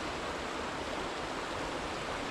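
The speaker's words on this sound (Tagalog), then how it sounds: "sarap pakinggan ng daloy ng tubig" Stream water flows under a bridge in a steady, full rushing wash, close and unbroken, with no voices over it.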